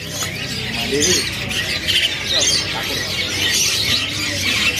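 Nuri dora parrots at Pramuka bird market in Jakarta, harsh repeated squawks over a busy backdrop of other birds and murmuring voices.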